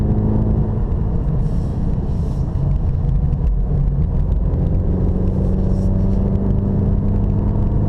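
A Cadillac CT4 engine drones steadily as the car climbs a winding mountain road up Mount Umunhum, with a loud, continuous low rumble and a slight rise in pitch as it pulls out of the corners.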